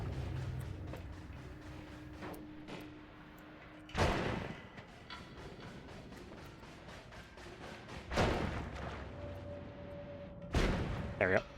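Lightning Bolt spell explosions go off in the video game Noita as three loud, sharp blasts roughly four seconds apart. Quieter crackling game effects fill the gaps between them.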